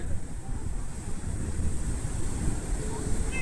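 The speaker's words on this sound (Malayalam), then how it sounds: "കടല് കേറുന്നുണ്ട്" Sea waves wash up on a beach in a continuous, fairly loud roar of surf mixed with wind buffeting the microphone, with no clear individual breakers.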